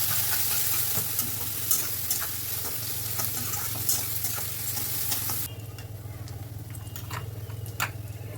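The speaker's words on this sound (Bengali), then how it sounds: "এবার দিয়ে দেবো কেটে রাখা পেঁয়াজটা, দিয়ে একটু নাড়াচাড়া করে নিচ্ছি" Chopped onion sizzles steadily in oil with whole spices, with repeated scraping stirs of a spatula against the pan; the frying noise drops noticeably in loudness midway.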